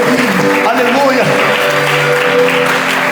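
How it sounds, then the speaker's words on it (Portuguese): Church congregation at a conference applauding strongly, a steady dense wash of clapping throughout, with a voice and music sounding over it. "Dá uma salva de palmas bem forte para Jesus."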